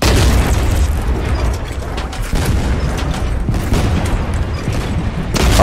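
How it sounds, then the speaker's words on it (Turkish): A heavy explosion booms in the pirate ship battle game Blazing Sails, a dense roaring blast with rumbling debris that fills the whole span loudly and without a break. "Patladı mı? Patladı."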